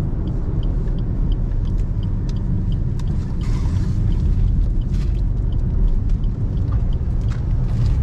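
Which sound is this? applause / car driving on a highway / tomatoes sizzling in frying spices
car driving on a highway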